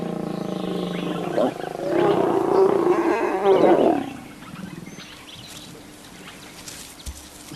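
A male white lion in Kruger gives a deep, powerful roar that swells for a couple of seconds and then fades, leaving quieter outdoor ambience with faint bird calls.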